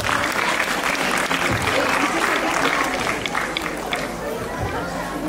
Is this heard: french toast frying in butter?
no